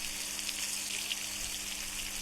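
A steady hissing trickle of liquid pours into a bucket as a character in The Long Drive urinates, continuous and fairly quiet with no pauses.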